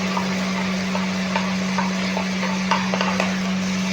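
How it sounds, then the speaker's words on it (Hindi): A roughly chopped large onion is stirred into cumin frying in a pan while cooking chana dal masala, giving a steady low sizzle with scattered stirring scrapes and a constant hum underneath. "अब मैंने एक बड़े साइज़ का ये प्याज लिया है, इसे मैंने रफली काट के ये डाल दूंगा"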